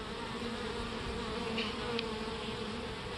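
Honeybees buzz in a steady, dense drone around a beekeeper working a hive, a continuous close swarm hum with no talk.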